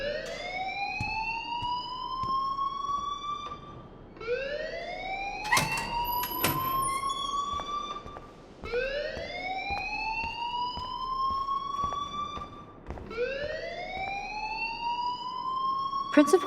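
A school alarm in Life is Strange sounds as a rising, siren-like whoop, repeating four times in a steady cycle, loud and close, with brief bursts of other noise between sweeps.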